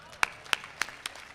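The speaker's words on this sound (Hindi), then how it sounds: "आपकी तालियां कमजोर है" Audience applause at a Hindi hasya kavi sammelan poetry recital: a few sparse, separate claps spaced evenly, soft and thin, with the reciter's voice under them.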